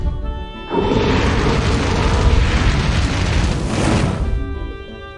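A vehicle weapon fires in the Bloodwar video game: a single loud, roaring blast that bursts in abruptly and rumbles for several seconds before tailing off.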